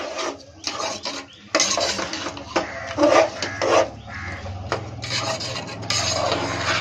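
Black Kavuni rice pongal stirred in a pot with jaggeryy and ghee, a spoon scraping and rasping against the pot in uneven bursts of rubbing, close and fairly quiet, with no voices.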